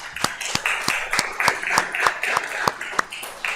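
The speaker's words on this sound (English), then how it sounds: "Maybe a round of applause" A church congregation claps during a service, a handful of separate sharp claps spaced irregularly rather than a full ovation, moderately close and fairly quiet over a faint background of murmuring.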